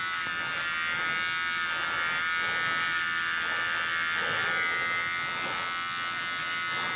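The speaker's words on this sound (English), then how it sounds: "Cordless clippers are great, but you gotta charge them" Cordless hair clippers buzz steadily and loudly while cutting hair during a fade haircut, a continuous close motor whine with slight pulsing as the blades move through the hair.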